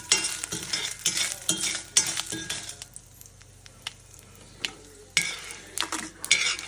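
Dried red chillies frying in hot tempering oil with other seasoning spices for a mint chutney; bursts of crackling sizzle and stirring scrapes in a pan come and go, with a few metallic clinks, fairly quiet and without talk.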